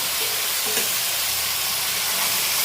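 Bombay duck fish fry in a pan of oil, a dense, loud, even sizzle and hiss with faint stirring underneath and no voices.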